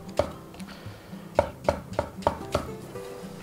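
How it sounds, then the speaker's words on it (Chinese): A knife slices button mushrooms and fresh shiitake on a cutting board, giving about six crisp, evenly spaced chops after one early stroke. Each chop is close and distinct against a quiet kitchen background. "我们先清洗过直接切成片就可以了。 配上两个鲜香菇"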